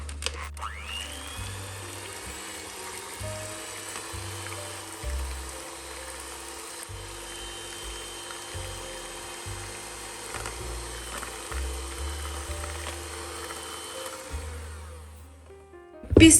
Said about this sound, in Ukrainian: Затримую рукою, кладу міксер і починаю збивати